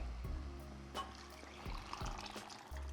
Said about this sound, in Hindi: इस स्टेज पे हम डालेंगे राजमा का पानी,